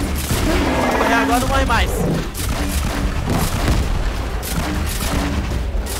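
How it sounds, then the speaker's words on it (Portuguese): Grenades blasting a giant dinosaur in Fortnite, heard as a continuous loud barrage of booms and explosive crackle filling the whole stretch, with players talking over the din. "E a gente vai mandar todas as granadas possíveis agora no monstro"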